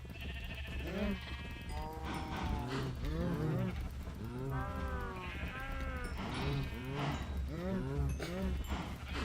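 Several Minecraft cattle moo repeatedly in long, drawn-out calls over a steady low background hum, fairly quiet and spread through the scene.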